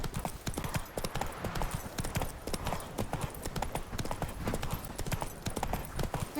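Horse hooves trot steadily in The Witcher 3: Wild Hunt, a continuous rapid clip-clop over ground with faint background ambience throughout.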